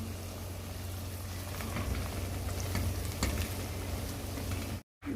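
Onions with ginger-garlic paste fry in a pan for chicken qorma, giving a steady, close sizzle with soft crackles throughout, then a brief dropout near the end before the sizzling resumes.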